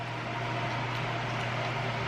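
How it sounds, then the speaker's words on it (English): A Nido robot vacuum cleaner runs in the background of a home, giving a steady, even whir with a low hum that stays constant and fairly quiet throughout, with no talking. "Our Nido vacuum robot is running."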